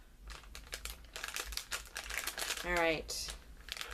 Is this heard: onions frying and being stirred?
no